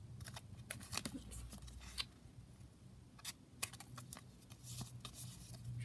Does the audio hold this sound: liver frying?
no